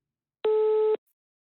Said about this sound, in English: The phone line disconnects.